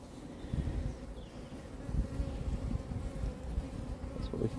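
Honey bees swarming over an open hive box during a colony inspection, a dense continuous buzz of many insects close by with individual bees droning past, steady throughout with no speech.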